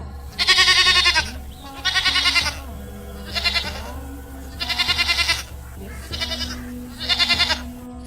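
Several goats bleat in a steady run of six loud, wavering cries while grazing, each about half a second to a second long and separated by short pauses, over a constant low hum.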